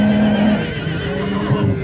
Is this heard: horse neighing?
yes